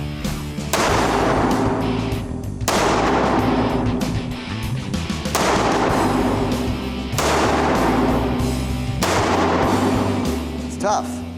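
Handgun shots with a laser sight at a shooting range: four or five loud, sharp reports spaced about two seconds apart. Each shot leaves a ringing tail that lasts until the next one.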